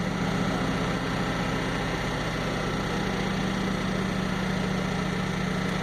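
A 2004 Ford F-150 crew cab 4x4 with a running problem idles steadily, a continuous low engine hum with a faint whine, close by and unbroken by speech.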